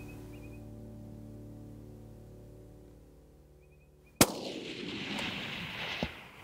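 A rifle shot on a safari hunt cracks out sharply and loudly after several seconds of quiet outdoor hum. It is followed by a rolling echo and a second fainter thump about two seconds later.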